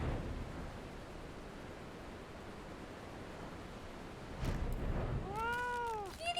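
A kitten meows in the video game Final Fantasy XIV, a few rising and falling mews near the end over a steady hiss of background noise.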